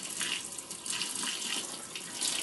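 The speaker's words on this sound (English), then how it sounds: "The pasta's been cooking for about 12 minutes and looks about done, so I'm going to drain it" Hot pasta cooking water pours out of a Pasta Express cooker into a sink, a continuous, close splashing gush with slight surges in flow and no voices.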